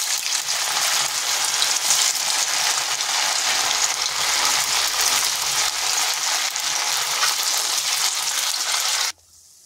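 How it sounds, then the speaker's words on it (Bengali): Pieces of papaya paneer frying in hot oil, a loud, steady crackling sizzle lasting several seconds before cutting off abruptly near the end, with no voices. "বাকি তেলটাই আর বাকিগুলোকে ভেজে নিচ্ছি।"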